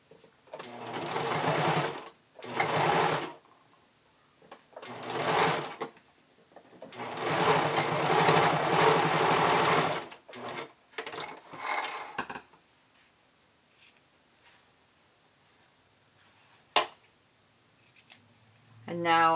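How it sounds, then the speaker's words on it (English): A sewing machine stitches bikini binding with a twin needle in several loud bursts of rapid mechanical whirring separated by short pauses, followed by quieter handling noises and a final brief run. "And you just stitch like you normally would with your twin needle."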